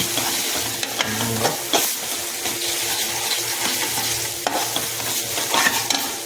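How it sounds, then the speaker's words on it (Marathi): Cooked mutton stirred into frying masala in a pot, with repeated scraping strokes and metallic clinks over a steady gentle sizzle, close by and without talking. "आता आपण याच्यामध्ये मटण मिक्स करून घेणार आहोत."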